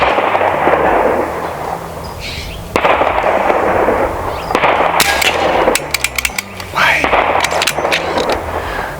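A semi-automatic AEA Terminator .30 caliber air rifle fires at a 25-yard target range. Several sharp, loud cracks come in irregular succession over steady background noise, with someone talking between shots.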